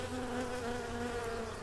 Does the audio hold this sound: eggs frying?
no